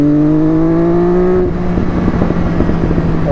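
MV Agusta Brutal 675 motorcycle, a 115 hp naked bike without ABS, revs hard with a rising, strongly harmonic engine whine that peaks and drops sharply midway, then settles into a loud, rough, burbling idle.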